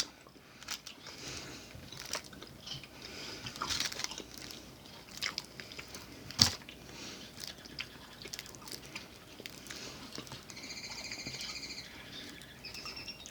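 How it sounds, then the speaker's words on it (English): A piece of snack from a Colombian treat box is chewed close to the mic, giving soft crunches and mouth sounds over a faint room background, with one sharper crunch partway through and no talk. "I broke off an inch-long piece. I'm chewing that now."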